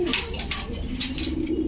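Fancy pigeons at a market stall cooing in repeated low throaty phrases, close and fairly clear, with faint background bustle.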